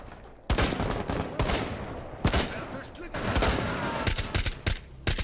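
Rapid bursts of gunfire from the Rainbow Six Siege tactical shooter, several sharp loud shots in quick succession, with players talking over the game sound.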